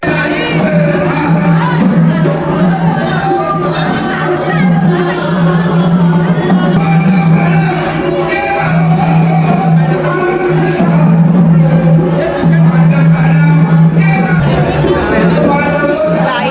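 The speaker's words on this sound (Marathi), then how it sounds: "आणि मंदिरात गर्दी आहे जाम" A dense crowd at a temple during the village fair in Kalamboli fills the air with a constant, loud babble of many overlapping voices, with no break throughout.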